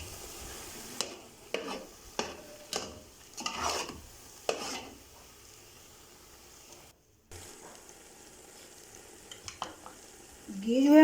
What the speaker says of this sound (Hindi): अब मैं इसके अंदर ऐड कर रही हूँ घी।